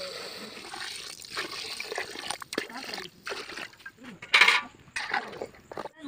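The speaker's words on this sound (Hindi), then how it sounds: "ये चावल को भी थोड़ा भाजने के बाद अभी इसमें पानी डालेंगे" Water splashes and trickles into a pot of toasted rice for khichdi in short bursts, with clinks of utensils and faint talk in the background, in a Shiva temple.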